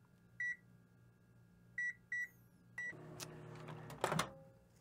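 A microwave oven being set to heat mug mac and cheese beeps several times as buttons are pressed, then starts with a click and a low steady hum, with a few clatters close by.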